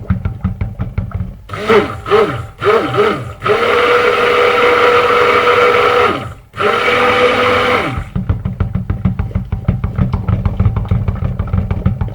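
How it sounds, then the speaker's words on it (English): A handheld stick blender mixing cold process soap batter whirs in several short bursts, then runs steadily for a few seconds, stops briefly, and resumes, close up and loud. "put the blender, your hand blender, or some people usually call it stick blender"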